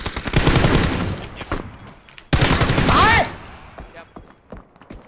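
Bursts of automatic gunfire in the PUBG battle game, loud and close, with rapid rattling volleys separated by a short pause and a few softer distant shots afterward.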